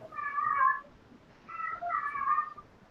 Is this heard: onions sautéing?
no